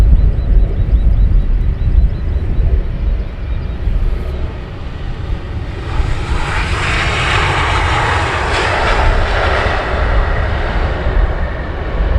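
Loud, steady roar of an aircraft taking off at Luton Airport in the early morning, a broad engine rumble that swells with a rising hiss midway and stays strong throughout, with no voices.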